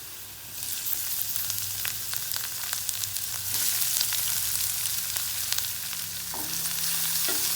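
Garlic browning in hot oil as onions are added to the pan for Idli Manchurian: a steady, close sizzle and crackle with a few faint stirring clicks, no voices.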